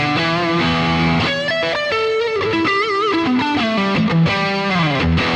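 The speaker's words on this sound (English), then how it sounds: "So on distortion 1, I'm using the crunch setting." Electric guitar driven through a BOSS GT-1000 on its distortion 1 crunch setting, played as a continuous run of overdriven notes and chords with steady loudness, close and alone with no talking.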